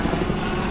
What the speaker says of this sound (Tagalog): Uy, helicopter.